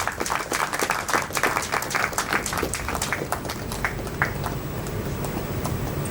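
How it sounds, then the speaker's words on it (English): Audience applause fills a conference hall as a panelist is welcomed onto the stage, a steady dense patter of many hands clapping throughout, with a few sharper individual claps standing out. "Can we keep clapping?"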